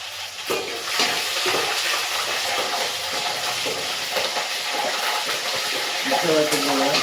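Green chillies frying in a hot pan give a steady hiss and sizzle, close by, with occasional stirring clatter under a couple of people talking.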